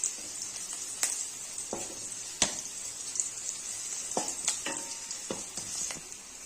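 Curry leaves fry in a pan for a crispy poha mixture snack. A steady hiss of sizzling runs under repeated sharp scraping strokes and stirring clinks, close and moderately loud, with no talk.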